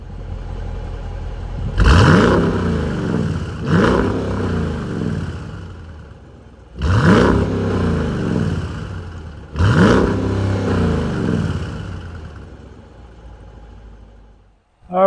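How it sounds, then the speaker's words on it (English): A 2023 Dodge Durango R/T with a 5.7-liter Hemi V8 and functional dual exhaust revs four times, each blip surging loud and deep then falling back to a steady idle rumble, with no voices. "a functional dual exhaust for this Hemi V8. So let's take a listen, see how she sounds."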